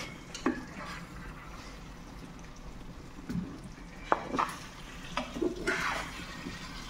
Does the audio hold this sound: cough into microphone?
no